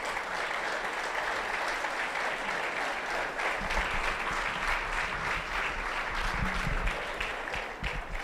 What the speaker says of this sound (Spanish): Denle un aplauso a los papás que están aquí esta mañana.